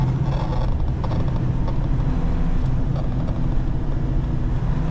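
A semi-truck gives off a constant harsh, sizzling frying noise over a low engine rumble, steady and loud at close range throughout, with no voices.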